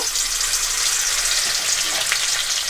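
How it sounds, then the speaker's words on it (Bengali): Fish pieces coated in turmeric and salt fry in hot oil, a loud, continuous close-up sizzle with a bright crackling hiss and no voices. "তেলটা খুব ভালো করে গরম হয়ে গেছে এবার আমি হলুদ লবণ মাখানো মাছগুলো এক একটা করে দিয়ে একটু ভেজে নেব"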